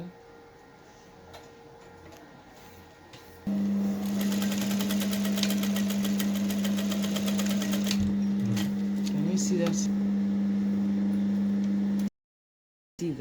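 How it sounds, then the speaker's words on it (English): A sewing machine runs steadily for about eight seconds, stitching a long strip of fabric for a flared circle dress, with a loud whirring hum and rapid ticking after a quieter start. "To start sewing up the long strip of fabric that will be gathered."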